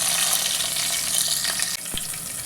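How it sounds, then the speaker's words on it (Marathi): Whole spices such as cloves, pepper and cinnamon sizzling in hot oil in a pan for egg biryani, a steady loud frying hiss with a brief scrape of stirring near the end, no speech. "हे चांगलं परतून घेऊया आपण."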